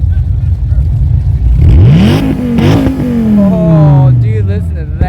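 A 2017 Dodge Viper GTS ACR sits idling nearby, then its engine blips in a sharp rising rev that falls away slowly, with a person talking over the sound.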